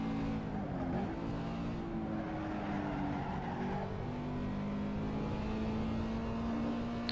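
Race car engine in the racing video game Assetto Corsa, driven under hard throttle, a steady droning engine tone that climbs and shifts pitch as it revs, fairly quiet under a low background hum.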